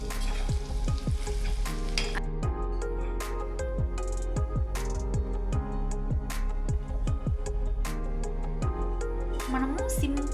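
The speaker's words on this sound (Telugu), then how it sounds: "మనము సింపుల్గా చాలా టేస్టీగా బ్రెయిన్ ఫ్రై చేసుకుందామా?" Brain fry cooks in a few spoons of oil in a pan, a soft sizzle running throughout, broken by repeated clinks and scrapes of stirring.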